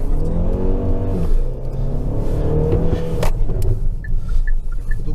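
A Jetour T2 with a DCT7 robotic dual-clutch gearbox accelerates hard, its loud, close engine drone climbing steadily in pitch, dipping briefly at a shift, then pulling on.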